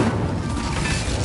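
Fiery spell blast of Incendio cast in Hogwarts Legacy, a dense rumbling whoosh of flame that fills the moment at steady loudness with no gaps.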